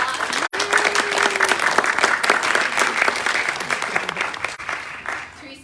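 A room full of guests gives a round of applause at a military retirement ceremony in Las Vegas, dense sustained clapping close by with a brief vocal whoop early on, fading slightly toward the end.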